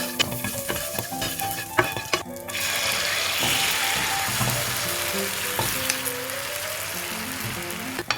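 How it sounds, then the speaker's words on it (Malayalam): An egg fries in melted butter in a pan with a steady, close sizzle that swells and holds, broken by a few clinks and scrapes of a utensil against the pan. "ഇനിയിപ്പോൾ നമുക്ക് എഗ്ഗ് ഫ്രൈ ചെയ്യാം. ഇതിലേക്ക് നമുക്ക് കുറച്ച് ബട്ടർ ഇടാം."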